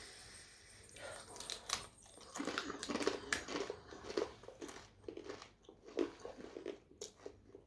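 Repeated crisp crunching and chewing of pita chips close to the mic, irregular bursts of brittle snack bites with no talking.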